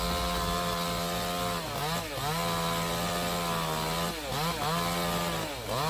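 A chainsaw cuts into a long-rotten tree, its engine droning steadily with repeated dips and revs as the chain bites and bogs in the wood, fairly close and loud.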